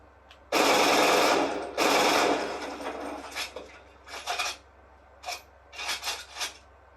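A 1942-era machine gun on bipod legs fires in Fortnite, loosing two long, loud rapid-fire bursts followed by several shorter, quieter bursts with pauses between them.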